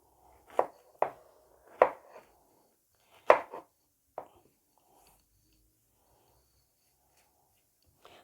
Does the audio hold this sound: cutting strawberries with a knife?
yes